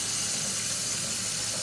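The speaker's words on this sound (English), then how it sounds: "You want to hear the water run while I wash some dishes?" Water runs steadily from a kitchen tap into a sink during dishwashing, a continuous broadband hiss with no talk over it.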